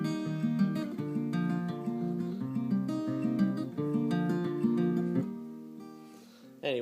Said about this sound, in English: he does something called Travis picking with his right